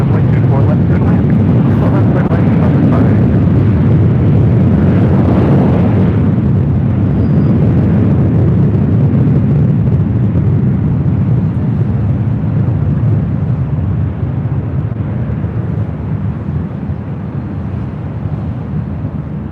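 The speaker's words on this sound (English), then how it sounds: "Taking off with Delta Connection" A Delta Connection airliner roars on takeoff at LAX, a loud, sustained rumbling jet engine with wind buffeting that eases slightly toward the end.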